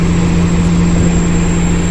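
A fishing boat engine runs steadily during a trial run before heading to sea, giving a loud, continuous drone with a constant low hum and a faint high whine.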